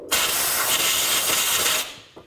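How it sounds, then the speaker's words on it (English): A loud, steady hiss of compressed air is blown around a spark plug on a 2007-14 GMC Sierra 3500HD engine, lasting nearly two seconds before cutting off, with a faint clatter afterward. "Now take a little compressed air and just spray around the spark plug in case there's any"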